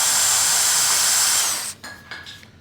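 A power drill bores steadily into a pinewood derby car block clamped in a vise, a loud close whine that holds for about a second and a half, then cuts off and spins down with a few lighter whirs.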